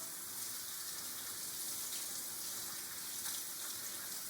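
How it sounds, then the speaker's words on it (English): Kitchen tap running steadily into a sink while soapy hands are rinsed under the stream, a constant close hiss of flowing water with slight splashing changes, no voices. "stick them back under the water and wash off all that soap"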